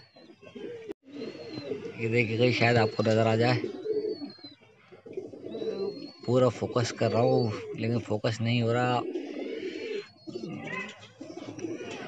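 Pigeons coo nearby in soft, rounded bursts, heard under someone talking steadily throughout.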